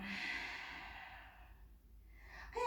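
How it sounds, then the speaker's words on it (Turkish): A deep breath drawn in and released during a yoga downward dog pose, a long soft airy exhale fading to near silence, with another breath starting at the very end. "Derin bir nefes aldım ve verdim"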